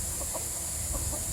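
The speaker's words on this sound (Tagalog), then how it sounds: "May manok dito guys, oh." Chickens on a farm where fighting cocks are kept give two brief pairs of soft, faint clucks over a steady background hiss and low rumble.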